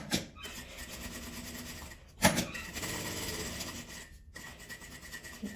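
A sewing machine stitching fabric scraps into a small keychain, a close rasping mechanical whir broken by two short pauses, with a sharp knock near the middle and no talking.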